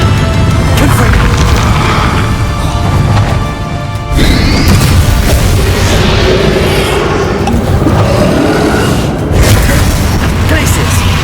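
Confringo blasting-curse explosions in Hogwarts Legacy, loud, dense booms and crashes piled together in a continuous roar of combat, with a brief dip partway through before the blasts resume.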